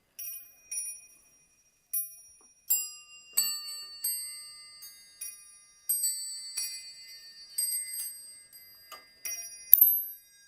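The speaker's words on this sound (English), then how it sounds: "And it's also a musical clock." An antique 18th-century musical clock plays a sequence of bright, high, bell-like chimes in an irregular melodic pattern. The notes are close and clear, each ringing out before the next, against silence with no talking.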